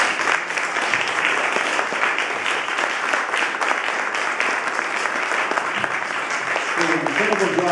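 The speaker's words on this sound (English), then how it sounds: "give him a round of applause" Audience applause at a hunger-relief talk, a steady wash of clapping from a crowd that runs the whole stretch, with a faint voice emerging near the end.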